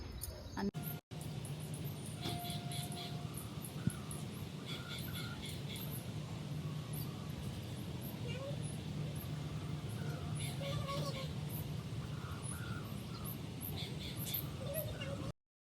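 Birds waiting on a rock to be fed cooked rice call with repeated chirps and caws at a moderate distance, while a person talks steadily over them throughout.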